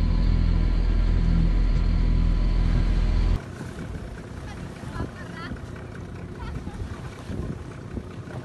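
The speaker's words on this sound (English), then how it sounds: "our friends from Germany say goodbye with the dinghy" A dinghy outboard motorboat pulls away from a sailing boat leaving Jamaica, its engine rumble loud and close at first, then dropping abruptly to a softer, more distant drone over water and wind noise.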